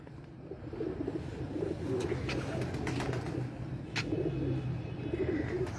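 Teddy pigeons coo softly in repeated low rolling calls against steady background noise, with a few sharp clicks and brief chirps mixed in.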